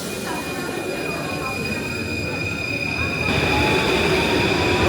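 A Paris metro train pulling into a Gare du Nord underground platform, a steady rolling rumble with a thin high whine that swells louder near the end, set against busy station ambience.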